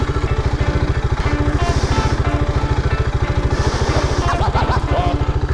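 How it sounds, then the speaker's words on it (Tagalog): A RUSI Classic 250i motorcycle engine running close by with a steady, rapid low-pitched thumping pulse and mechanical clatter on top, holding an even loud level throughout with no voices. "The RUSI Classic 250i"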